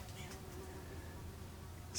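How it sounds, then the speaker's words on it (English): Flies buzz in a steady low drone inside an abandoned Detroit crematory workshop, faint and continuous, ending with a brief louder noise. "There's flies buzzing around"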